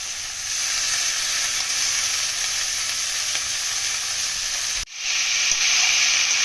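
Banana blossom sizzles loudly as it fries with potatoes in a pan for a shrimp and banana blossom dish, a steady close hiss broken by one brief dip before the sizzle resumes.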